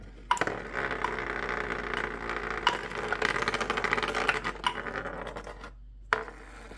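A hand-whittled wooden spinning top carved with a Swiss Army knife spins on a hard surface, giving a steady close rattling whir with scattered clicks and knocks, then a brief pause and a final clatter.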